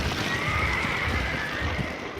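Wild horses on open range land neigh and whinny against a dense, steady wash of noise, with a thin high cry running through the middle of the stretch.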